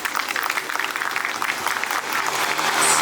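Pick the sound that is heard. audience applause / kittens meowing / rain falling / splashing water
audience applause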